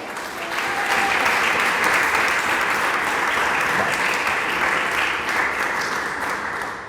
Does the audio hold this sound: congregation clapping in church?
yes